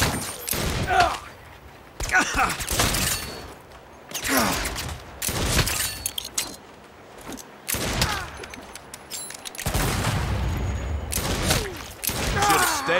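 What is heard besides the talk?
gunfire from the video game Saints Row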